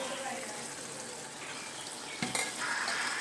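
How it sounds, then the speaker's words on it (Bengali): Prawns and fried potatoes drop into hot masala in a pan, setting off a dense, close sizzle that holds steady, with a brief clatter near the end and the sizzle continuing after. "দিয়ে দিলাম চিংড়ি মাছ আর আলু ভাজাটাকে"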